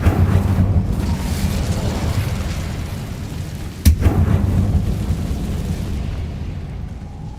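In Hogwarts Legacy, an Incendio fire spell erupts as a sharp blast partway through, set against a loud, dense roaring rumble that persists throughout, with no talk.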